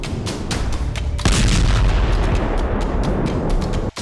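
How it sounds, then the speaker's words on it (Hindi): A gas station explosion in Volgograd, Russia, bursting in as a sustained, loud roaring blast after a series of sharper cracks and pops, the rumble filling the rest of the moment with no voices. "सिर्फ 10 सेकंड के अंदर इस धमाके ने पूरे शहर को सन्न कर दिया"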